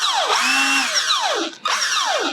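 A TooLatelier 18 V cordless impact wrench spins up in two close, loud bursts of motor whine that rise and fall in pitch, separated by a brief pause.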